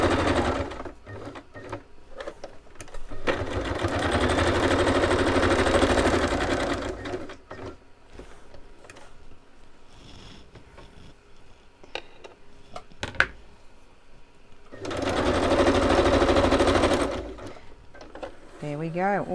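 A sewing machine stitches around the sides of packaging pockets in two close, whirring runs separated by a quieter pause with small handling clicks and some soft talk.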